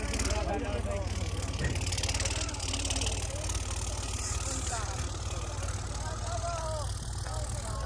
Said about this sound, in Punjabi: ਟਰੈਕਟਰ ਆਪਾਂ ਲਾ ਲਿਆ ਹੁਣ ਦੂਜਾ ਲਾਉਣਾ